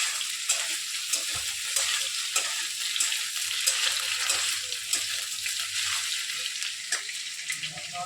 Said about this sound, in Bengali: আলুগুলো লাল লাল করে ভাজলাম।